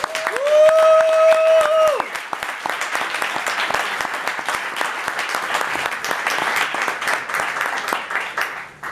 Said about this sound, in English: I think they deserve a round of applause for being here.